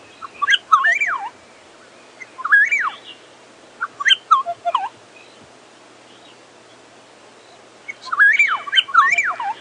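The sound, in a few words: bird calling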